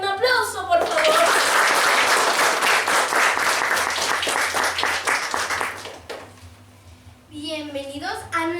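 Applause from a studio audience welcoming a guest on a Spanish-language historical interview show, a dense, loud burst of clapping that fades out, with voices speaking briefly before and after.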